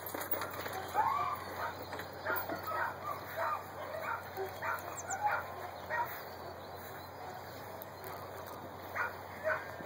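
Several dogs bark at a distance in irregular bursts from dog runs at a Border Collie training facility, over a steady background hum, with faint bird calls mixed in.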